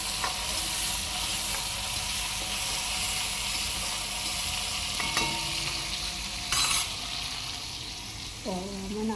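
Spices crackle and sizzle in hot oil while tempering for a Gujarati green chickpea curry, a steady frying hiss with stirring and a few louder clatters toward the end.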